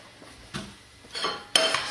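A pan is set down on a kitchen scale while preparing panna cotta, giving a few separate metallic clunks and clinks close by, with a louder knock near the end and no talking.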